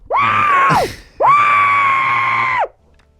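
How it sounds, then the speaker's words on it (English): Two long, loud screams, each lasting over a second and separated by a short break, are let out into a pillow by a single person close by. "I like to scream into pillows"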